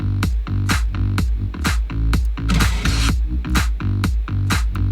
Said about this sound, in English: There were some claps.